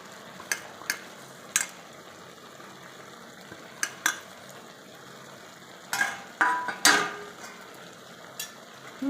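Prawns tossed into a pan with mustard sauce for a sour water lily and prawn dish, stirred with a spatula: a soft steady sizzle broken by scattered metallic scrapes and clinks against the pan.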